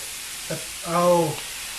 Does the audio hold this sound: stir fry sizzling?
yes